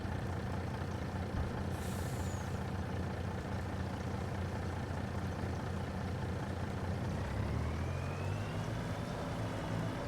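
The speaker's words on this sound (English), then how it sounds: "Hopefully I'm not getting drowned out by the truck noise." A heavy truck engine in the Farming Simulator 25 video game rumbles steadily throughout, with a brief hiss of air release early on and a rising whine near the end.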